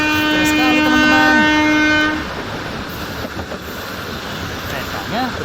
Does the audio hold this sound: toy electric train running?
yes